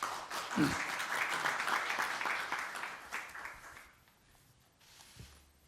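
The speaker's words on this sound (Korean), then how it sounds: "자, 박수로 환영해 주시기 바랍니다." Welcoming applause at a Korean government policy meeting runs dense for about three seconds, then thins out and fades to quiet room tone with a brief bump near the end.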